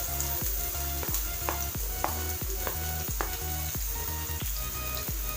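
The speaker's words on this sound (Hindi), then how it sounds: "तो तेल हमारा गर्म हो चुका है, तो इसमें मैं ऐड कर दूँगी चॉप किया हुआ प्याज" Chopped onion sizzles and fries steadily in hot oil in a home kitchen, a continuous close crackle broken by regular soft stirring scrapes, with no talk.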